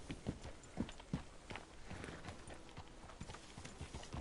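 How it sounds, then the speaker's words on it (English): A horse in Red Dead Redemption 2 walks with steady, rhythmic clip-clopping hooves, moderately close and clear, with no talk over it. "Glad you take good care of that horse."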